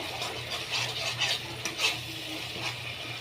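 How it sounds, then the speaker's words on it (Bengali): Pointed gourds tipped into spiced oil and stirred in a pan, with a steady close sizzle of frying under repeated scraping strokes of a spoon against the pan. "এবার আমি পটলগুলোকে দিয়ে দেবো।"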